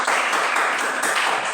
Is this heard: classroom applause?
yes